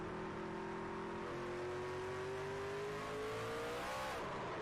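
A race truck in a racing video game spins up its rear wheels, giving a loud, sustained engine whine that climbs steadily in pitch, then drops sharply just before the end.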